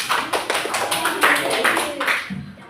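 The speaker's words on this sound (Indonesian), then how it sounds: "Tepuk tangan untuk Eja." A classroom of children clapping in a brief, loose burst for a classmate who answered a question, close and fairly loud, fading into a teacher's voice at the end.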